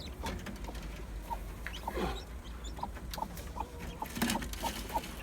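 Newly hatched chicks from supermarket fertile eggs set under a hen give a series of short, high peeps spaced through the scene, with soft rustling and scratching nearby.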